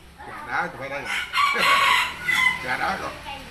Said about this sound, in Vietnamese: gà đá tụi bay đây.